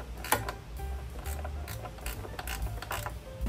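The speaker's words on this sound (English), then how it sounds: "I'm going to secure the top bolt." A headlight bolt is tightened by hand on a rebuilt 2023 CFMOTO 300SS motorcycle, giving faint, close, rapid ratchet clicks over a low background hum.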